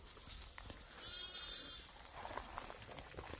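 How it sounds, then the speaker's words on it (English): Balami and Sudanese fat-tailed sheep bleat on a livestock farm in Ghana. A short wavering bleat rises out of soft outdoor background noise, moderately close, with no talking. "we've got some Sudanese fat-tailed sheep in there"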